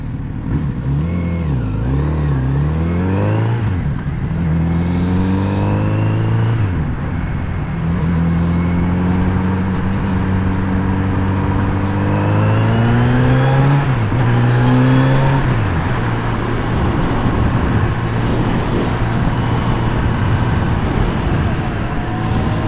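Kawasaki Z900RS motorcycle engine pulling through the gears while riding, rising and dropping revs with shifts, steady loud engine note under wind noise.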